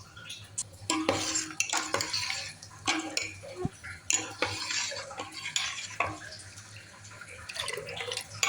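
Blended drumstick pulp is poured and scraped from a mixer jar into water in a pot, with clinks of metal against cookware, stirring scrapes and wet dripping. The sounds come in irregular bursts, close by, against a quiet kitchen.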